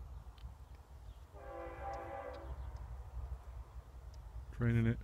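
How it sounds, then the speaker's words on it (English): A train goes by with its horn sounding, a long held tone early on and a louder, closer blast near the end, over steady outdoor rumble and background noise. "Here comes a train."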